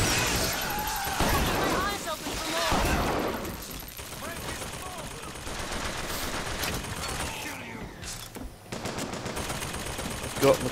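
Carbine gunfire in the video game Bioshock Infinite, heard as clusters of sharp shots and bursts over a busy game soundscape, with someone talking over much of it.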